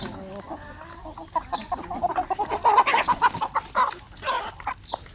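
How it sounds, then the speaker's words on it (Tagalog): Purebred native chickens cluck repeatedly in short, busy bursts, fairly close, with overlapping calls from several birds and no talking. "So far yan lang po yung ating mga manok dito, mga purebred na mga native."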